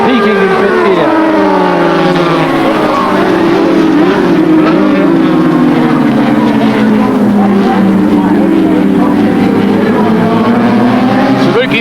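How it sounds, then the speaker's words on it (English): A 1984 Swan series production racing motorcycle peaking in fifth gear at about 240 km/h on a back straight, a loud, sustained high engine wail with slowly sliding pitch, close and continuous under a commentator's voice. "look at the bike shake down the back straight. They are hitting 240 kilometres an hour."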